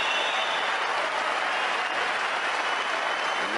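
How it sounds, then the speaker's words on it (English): A crowd at a German Open table tennis match breaking into loud, dense applause and cheering that holds steady the whole time, with no voices rising above it. "Crowd going quite crazy here."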